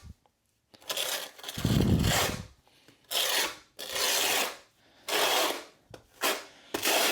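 A flat trowel spreading tile mortar onto a large tile makes repeated gritty rasping scrapes in short strokes, close up, with brief pauses between passes.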